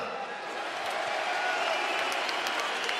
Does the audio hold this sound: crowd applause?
yes